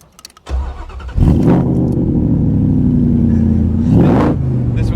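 A Superformance MKIII Shelby Cobra fires up with a turn of the key: a brief cranking whir, then a loud catch into a deep, rumbling idle that holds steady, with a short blip of revs near the end. Close and alone.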